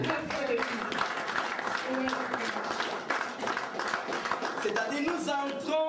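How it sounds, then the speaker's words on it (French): A church congregation claps their hands together in a dense, continuous burst of applause, with voices and cheering mixed in throughout. "Let's clap for the"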